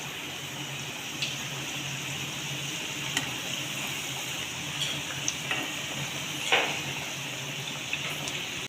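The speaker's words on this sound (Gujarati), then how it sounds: "હવે આપણે તેલ ગરમ થઈ ગયું છે, તો અંદર એક કરીને સમોસા તળી લઈશું" Samosas deep-fry in hot oil in a kadai with a steady, even sizzle and crackle. Small pops and bubbling bursts break through now and then.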